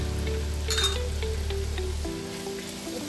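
Sliced onions fry in hot oil with cardamom, cloves and cinnamon for beef biryani, a dense steady sizzle close by that suddenly drops as the heat or lid changes, with no talk.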